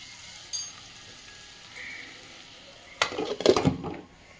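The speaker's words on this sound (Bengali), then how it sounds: "এখন আমি এই জিনিসটাকে হালকা করে ঢেকে দেব।" A lid set down over a pot of vegetarian curry of yardlong beans, eggplant and potato, giving a brief clattering metal knock amid faint kitchen sounds, with a few light clinks before it.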